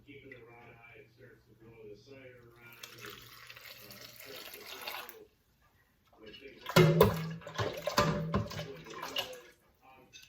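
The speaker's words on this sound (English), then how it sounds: "ready to put the brine in jar number 2." Spiced brine is poured into a glass jar packed with pickled asparagus, making a gurgling, splashing fill that starts softly and grows louder and fuller in bursts, with a person speaking at the start.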